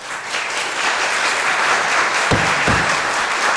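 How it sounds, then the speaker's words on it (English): Audience applause breaks out at a Blount County Commission workshop meeting, a steady, dense wash of many hands clapping that fills the room throughout, with a couple of low thumps near the end. "We're not going to have applause."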